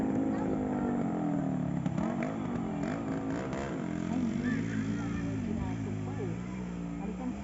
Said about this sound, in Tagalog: Malakas yung motor na yun, matuti yan eh.